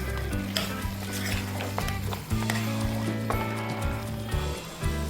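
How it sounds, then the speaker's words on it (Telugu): Tomato masala paste stirred and sizzling in a hot pan for a village-style chicken curry, a steady close frying hiss with repeated scraping strokes of the spoon, no talk. "బాగా మిక్స్ చేసుకుందాం పేస్ట్ని."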